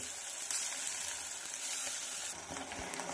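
Tomato gravy with ginger-garlic paste fries in a pan for a hotel-style potato and pea curry, giving a continuous close sizzle with occasional stirring scrapes and a light bubbling texture, no one speaking.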